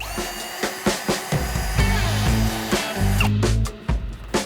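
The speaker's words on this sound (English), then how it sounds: "drill each of those 8 holes all the way through" A power drill whirs in bursts, spinning up and biting into material several times, close and fairly loud, drilling bolt holes through a 4WD storage drawer setup.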